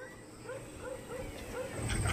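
Several dogs on a mountain hillside after rain give a string of faint barks and yips over steady outdoor background noise.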